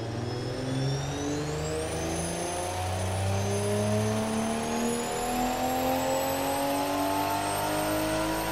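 A car engine built in the Automation car design game, set with little muffler and a high RPM limit, revs loudly and continuously, its whining tone climbing steadily in pitch.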